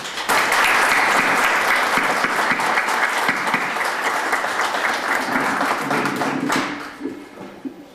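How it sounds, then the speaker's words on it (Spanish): A crowd applauds Roberto at a book presentation in Villablino, loud sustained clapping from many hands that fades near the end, with a voice beginning to speak as it dies down. "Yo os pido un fuerte aplauso para Roberto."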